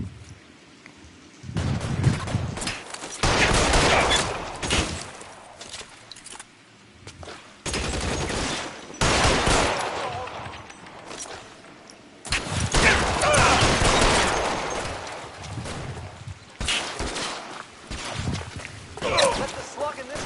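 Gunfire from a shootout in the video game LA Noire, loud bursts of rapid shots coming in several long volleys separated by short gaps, with a voice talking between them.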